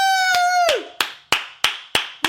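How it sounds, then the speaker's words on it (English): Round of applause sound effect played on a podcast episode: a brief rising tone gives way to a series of sharp, evenly spaced clap bursts, loud and close with no talking over them. "Hold up, where my round of applause at?"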